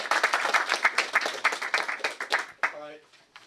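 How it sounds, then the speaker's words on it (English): A conference audience gives a round of applause for a talk on flight preparation, dense steady clapping that thins out toward the end, with a few scattered final claps. "Let's give Rick a round of applause."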